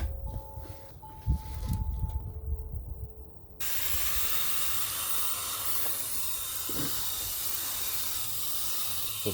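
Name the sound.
watering compost and soil in a raised bed barrel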